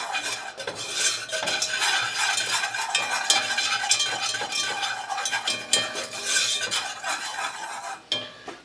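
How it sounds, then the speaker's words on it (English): Wire whisk stirring chocolate banana pudding mixture of dry ingredients in a pot, a steady rapid scraping and clinking against the metal that runs continuously and close, with no talking. "I'm going to whisk this together to get it blended so I don't get any lumps or clumps."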